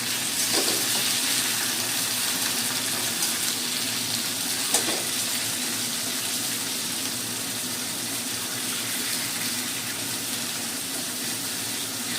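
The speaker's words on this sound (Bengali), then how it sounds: "আলু পেঁয়াজের সঙ্গে আমি চিংড়ি মাছটা ভেজে নিচ্ছি" Prawns fry in a pan with potatoes and onions for a young jackfruit and prawn curry. A steady, close sizzle continues throughout, with a couple of brief spoon clatters early and midway.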